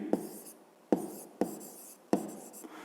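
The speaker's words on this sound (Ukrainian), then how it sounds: "Пишемо відповідь." A pen scratches out an answer to a fifth-grade maths exercise: four short, close writing strokes, each starting with a sharp tap and trailing off into a soft scrape.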